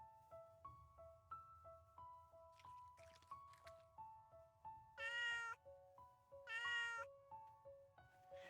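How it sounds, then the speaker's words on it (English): A cat eating cran apples in Little Witch in the Woods: soft wet squishy chewing and drips under a light melodic tune, with two louder meows rising over it. "The cat ate the cran apples."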